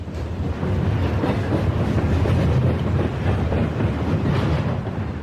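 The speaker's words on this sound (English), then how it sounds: "TV-22 rolls through Altoona on its eastbound journey" Conrail freight train TV-22 rolling eastbound through Altoona: a close, continuous heavy rumble of wheels on rail with clickety-clack rhythm, swelling slightly and holding steady as the cars pass.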